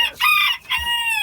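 A Hamburg bantam rooster, spangled variety, gives a loud close crow and clucking squawks while being handled, two strong bursts with a brief break between.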